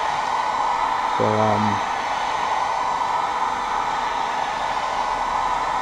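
Heat gun blowing hot air onto a Kydex sheet for a short knife sheath, a steady broadband roar lasting the whole stretch, loud and close, with a man's brief spoken word near the start.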